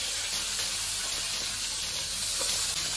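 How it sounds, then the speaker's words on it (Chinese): Hairtail fish fries in a hot wok with a dense, steady sizzle and hiss, close and continuous, with no talk. "把鱼呢下锅煎上，这些鱼呢都两锅煎就可以。"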